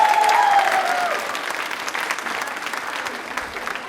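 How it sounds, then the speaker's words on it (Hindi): Studio audience at a quiz show claps in steady, moderately loud applause after a comic performance, fading slightly toward the end. "एक बार तालियां प्लीज जोरदार हो जाएं।"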